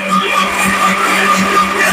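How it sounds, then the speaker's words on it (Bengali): A kitchen mixer grinder whirs steadily and loudly, grinding a corn paste with a continuous motor drone. "মিক্সি চালাচ্ছি, ভয় পেয়ে যাচ্ছি।"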